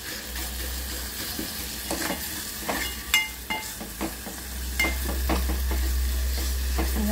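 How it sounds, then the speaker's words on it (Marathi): Garam masala spices roasting in hot oil make a steady close sizzle, broken by the scrape and clack of stirring at irregular moments, with no voices. "आपला हा मसाला पूर्ण भाजून होत आहे"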